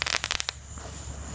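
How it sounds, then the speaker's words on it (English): Fireworks going off at close range, a quick cluster of sharp crackling bursts in the first half second followed by a lower hiss and rumble that fades out, with no voices. "That's not even a firework. It's a fire bomb."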